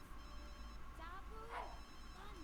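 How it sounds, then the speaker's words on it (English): A phone ringing in the Sims 3 game, a light electronic trill rising and repeating a few times at moderate volume over a constant background hum. "A little phone ringing."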